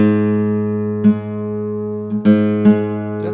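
A single sustained note rings from a 1950s-60s Brazilian 7/8-size nylon-string flamenco guitar, loud and close, with rich harmonics and a few soft plucks and string noises over it.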